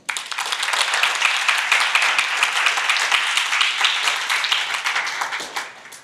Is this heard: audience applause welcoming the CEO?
yes